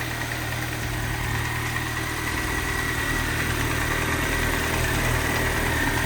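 A 2011 Mini Cooper R57 engine idles steadily and smoothly after a misfire repair, a continuous close mid-pitched hum with faint vibration and no stumbling.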